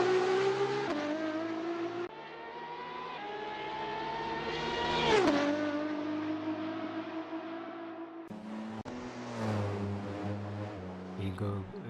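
A Porsche 919 race car screams up the Goodwood hillclimb in a sim game, its engine climbing in pitch through shifts, with a pass-by whoosh midway and commentary voices over it.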